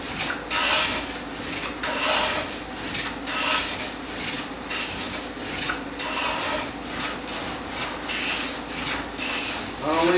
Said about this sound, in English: It's making shavings.